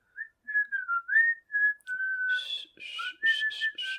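A person whistles a short, wavering tune of sustained notes, then several breathy, airy puffs follow, close and alone.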